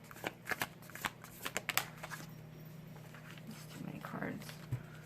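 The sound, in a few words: shuffling tarot cards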